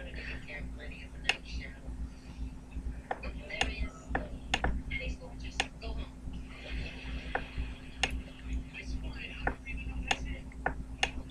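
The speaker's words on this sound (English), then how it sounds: "making that annoying clicky noise with my mouse" A computer mouse clicks in sharp, scattered single taps at irregular intervals, close and quiet, over a low steady hum with faint talking in the background.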